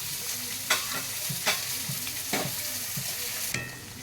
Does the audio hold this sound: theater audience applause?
no